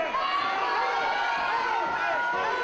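A crowd at a 2007 professional fight roars and cheers steadily for the home favourite, a dense continuous wash of voices at a loud, even level.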